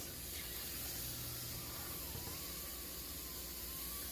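A garment steamer sends a steady, continuous hiss of steam onto a fedora hat's fabric, broadband and fairly loud throughout with no pauses and no talking.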